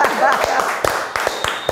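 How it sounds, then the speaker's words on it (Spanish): An audience on a podcast gives a guest a few scattered handclaps, sharp and close, mixed with a voice speaking over them. "Un aplauso para Oscar."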